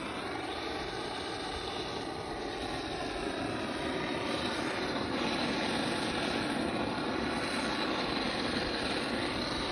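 A blowtorch roars in a steady, continuous rush while its flame treats the cut, chamfered edges of plywood, holding loud and even throughout with no pauses.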